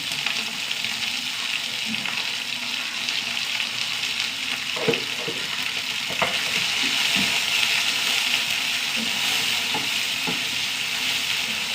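Sliced onion sautéing in a pan with curry leaves, a steady close sizzle and hiss running throughout, with a few soft stirring clicks and scrapes, no voices.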